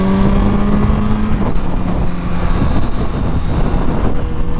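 A Honda CBR1000RR SC57 sport motorcycle is ridden with a steady engine drone at a constant pitch, heavy wind rush over it, loud and close from the rider's position.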